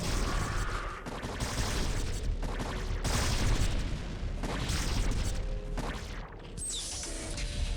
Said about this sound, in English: Siege tanks using their ability to fire over the walls for the first time today